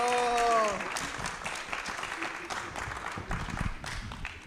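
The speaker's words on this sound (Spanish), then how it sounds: "pido un caluroso aplauso electrónico" A canned applause sound effect played during a talk show introduction, a short burst of clapping with a brief synthetic tone at the start, then voices talking over it.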